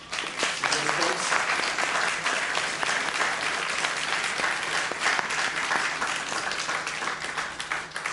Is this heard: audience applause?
yes